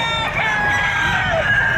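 A two-year-old rooster at the Padre Garcia livestock auction market in Batangas crows loudly and close by, one long drawn-out call over a steady hum of market noise.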